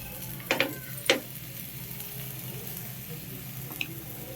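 A dosa spread with coriander paste and a pinch of turmeric cooks on a hot pan, giving a steady low sizzle with a few brief scraping clicks near the start and one faint tick toward the end.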